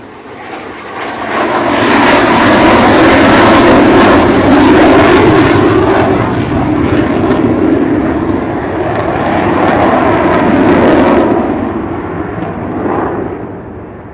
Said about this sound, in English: So here is Kevin and Pod bringing her in off the low overshoot